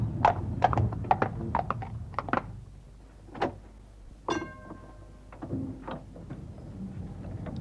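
Horse hooves clip-clop unevenly as a horse pulls a small four-wheel, single-deck early tram car, the strikes clustered and fairly close, with a faint squeak or creak partway through and no speech.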